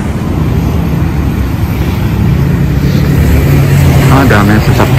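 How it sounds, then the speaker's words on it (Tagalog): Busy road traffic near a mosque at Center Point Plaza, with engines droning and cars passing steadily, one vehicle swelling louder near the end while a voice talks over it. "Ang dami yung sasakyan, no?"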